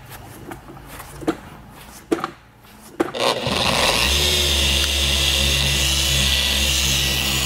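A car polisher used for paint correction gives a few soft knocks and clicks, then spins up and runs as a loud, steady whirring drone held close by through the second half.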